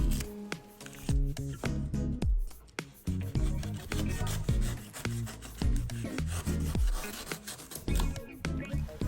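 Repeated rasping cuts and scraping strokes, close and uneven in rhythm, as a blade cuts the back edge of a movement at an angle.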